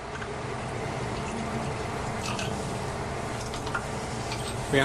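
Water is poured into a receptacle holding a chemical during a demonstration simulating the Bhopal pesticide plant reaction, a steady, even rush of liquid heard alone at moderate volume.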